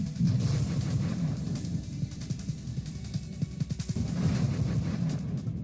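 Rapid bursts of ship weapon fire from the Nova Drift space shooter game, a dense stream of punchy shots with uneven gaps, steady and fairly loud throughout with no voices.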